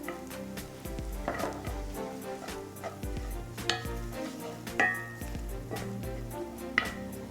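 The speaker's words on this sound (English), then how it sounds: "allow my garlic to cook for about 30 seconds" Garlic softening in a hot pan, a gentle continuous sizzle with scattered clinks and scrapes of a utensil against cookware, fairly close and without talk.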